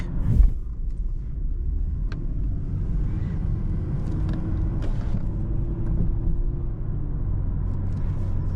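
A right-hand drive car is heard from inside while driving: a low, steady engine and road rumble with a brief thump near the start and no talking.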